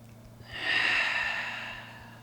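One long, deep yoga breath, a soft airy rush swelling and slowly fading, close and quiet against a faint low hum, with no talking.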